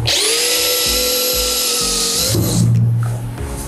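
DeWalt DCD805 hammer drill boring into soft Dutch teak wood at speed setting 2, a loud steady high whine for a couple of seconds that winds down as the bit clears, alone without talk.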